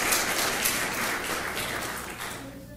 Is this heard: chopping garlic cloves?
no